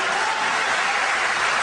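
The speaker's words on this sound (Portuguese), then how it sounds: "Aplauda Jesus por eles." A church crowd claps steadily and densely, a continuous wash of applause with no talking.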